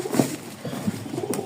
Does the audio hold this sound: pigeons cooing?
yes